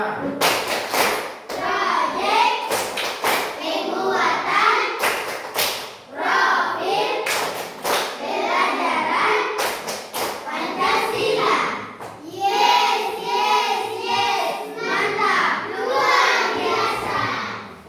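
A standing class of children performs the Tepuk P5 clapping chant in a classroom: crisp, loud group claps in rhythmic bursts alternate with chanted voices, with a livelier stretch of chanting and claps near the end.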